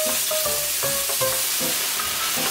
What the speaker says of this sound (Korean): 팬이 뜨거워지면 소고기를 넣고 물이 생기지 않게 빠르게 볶아주세요.